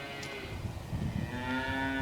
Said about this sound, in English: You hear my cows?